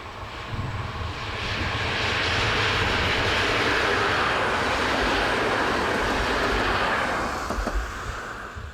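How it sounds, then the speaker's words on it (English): An ETR 450 high-speed train set rushes past near Metaponto on a Roma to Taranto service, a broad roar that swells to a loud peak mid-pass and then eases away. "Almost catching the cameraman out is this ETR 450 high-speed train set, passing with a service from Roma to Taranto"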